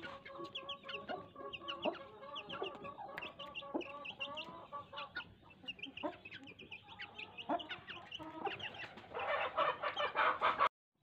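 Hens cluck softly outdoors in the sun while chicks peep in quick, high chirps all around, close by, ending in a louder flurry of clucking.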